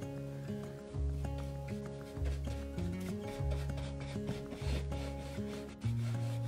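Dark wax from DIY Paint being rubbed by hand onto painted wood, giving a steady series of close, soft scrubbing strokes in a loose rhythm with brief pauses, and no voice present.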